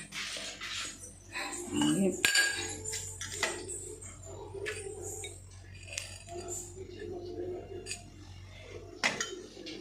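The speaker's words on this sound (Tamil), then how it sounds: "ஃப்ரைட் ரைஸை கிண்டி வச்சுட்டேன்ப்பா" Egg fried rice stirred in a pan, with light metallic clinks and scrapes of a utensil against the pan, a sharper clatter early on and soft kitchen clatter under quiet background voices.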